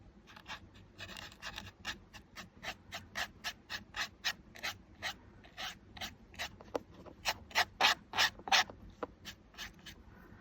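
A small brush sweeps repeatedly across an embossed craft tag, giving a steady series of short, close scratchy strokes, roughly two per second, growing louder and quicker near the end, with no voices.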